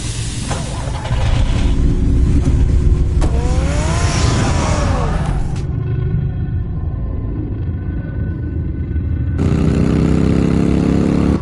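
A car in the Batman Telltale game starting up and driving off, a loud, steady engine drone with rising revs in the first half, then a lower continuous rumble that swells again near the end, with no talk.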